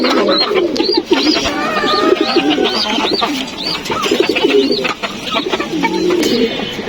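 Racer pigeons cooing inside a loft, several birds overlapping in repeated soft, rolling coos close by and fairly loud, continuing without a break.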